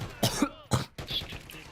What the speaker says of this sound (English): Did not mean to start coughing on myself there.